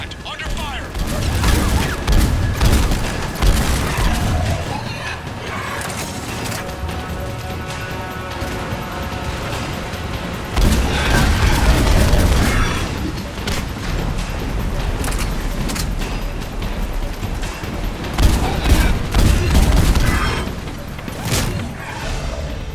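A firefight in Mass Effect Legendary Edition, with bursts of gunfire and crashing impacts piling up over a loud, dense battle soundscape, under game music and effects for more than twenty seconds.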